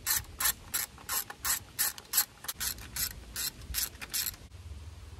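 A ratchet wrench loosens the coil pack bolts on a Honda K24 engine in a Honda Element, about a dozen crisp, close, rapid clicking bursts in a steady rhythm, then a brief quiet pause at the end.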